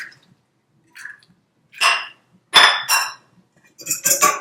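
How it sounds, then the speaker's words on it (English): Eggs being whisked with ricotta cheese and parsley in a bowl for meat lasagna, heard as short separate bursts of clinking and scraping against the bowl with quiet pauses between them. "we are going to whisk this 2 eggs along ricotta cheese and parsley"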